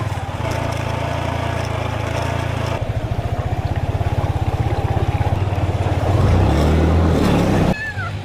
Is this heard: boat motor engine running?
yes